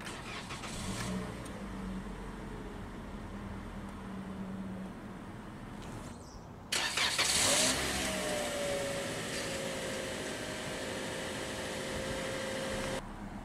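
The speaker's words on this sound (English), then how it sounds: "We'll go ahead and start the engine." A 2018 Toyota Corolla LE engine turns over and catches with a loud burst, then settles into a steady idle hum after several seconds of quiet background.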